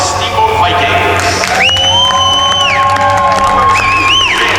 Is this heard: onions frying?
no